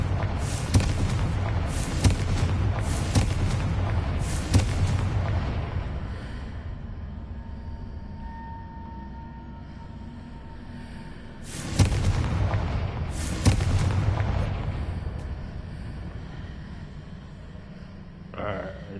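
Spell blasts in the Hogwarts Legacy video game, the Confringo fire spell, land as booming thuds: a cluster of several hits in the first five seconds, then a quieter stretch, then two or three more loud impacts near twelve to fourteen seconds.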